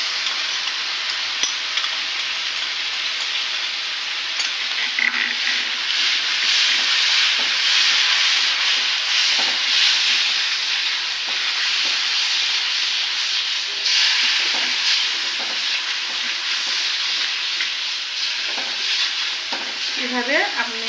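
Masala paste for a roast being stirred in a pan of hot oil, a steady loud sizzle with scraping strokes of the spoon running continuously throughout.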